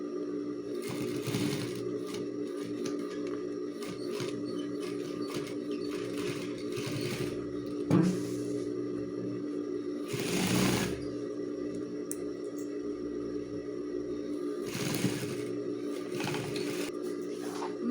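A sewing machine topstitches a school backpack in short bursts of rapid mechanical stitching, close and moderately loud, separated by pauses with fabric handling and a few clicks.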